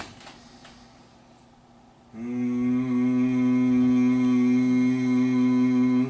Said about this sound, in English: So when you do the Brahmari breath